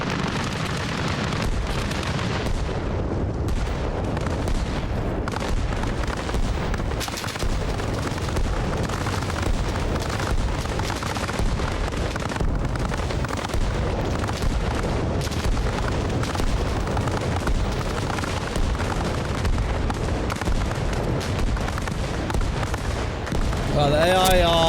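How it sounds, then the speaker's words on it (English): Mortar barrage in the Arma Reforger video game, with AI crews firing a creeping barrage and armored vehicles adding gunfire: a dense, continuous roll of booms and blasts that keeps going without a break from start to finish. "Fire for effect. We're going to have a creeping mortar go down the side."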